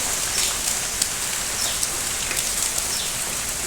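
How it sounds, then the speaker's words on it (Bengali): Heavy rain pours steadily, a dense continuous patter on surfaces nearby, with a few louder drops standing out and no talking. "দেখো কেমন বৃষ্টি পড়ছে প্রচণ্ড বৃষ্টি ঝড়"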